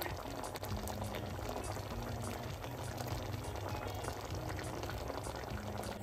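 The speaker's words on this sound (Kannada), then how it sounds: "ನೀವು ನೋಡ್ತಾ ಇರ್ಬೋದು ಇವಾಗ ಇದು ಚೆನ್ನಾಗಿ ಕುದೀತಾ ಇದೆ" Methi dal with fenugreek leaves and lentils bubbling steadily in a pot, a continuous close simmering gurgle with soft pops, faint and even throughout.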